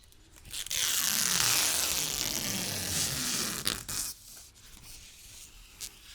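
A long, crackling rip as protective film is peeled off a glass panel, loud for about three seconds, then tapering into small scratchy sounds.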